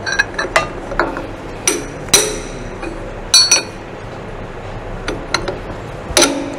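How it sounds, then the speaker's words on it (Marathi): A hammer strikes a spanner seated on the nut of a cylindrical grinding machine wheel, giving several sharp metallic clinks spaced irregularly and fairly close, with quiet pauses between blows. "थोडा हॅमरचा फटका देऊन आता स्पॅनर एका बाजूला व्यवस्थित बसवलेला आहे आणि याचे 1-2 फटके मारतो फक्त"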